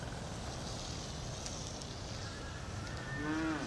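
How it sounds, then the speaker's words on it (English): Cattle low on the grounds of a Bangkok palace garden, a single drawn-out moo rising near the end over a steady outdoor background hiss. "so here you go, cattle"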